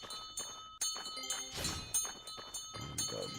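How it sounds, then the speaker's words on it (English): Bells ring out in the video game The Quinfall, a cluster of bright metallic chimes with sustained tones and a few dull thunks, fairly close and layered over game ambience. "All the bells."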